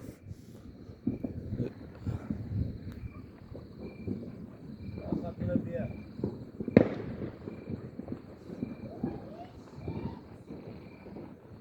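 New Year 2026 fireworks recorded from a rooftop in a rural South African setting, a steady patter of distant crackles and pops with one sharper, louder burst midway, under faint talk and a high insect-like whine.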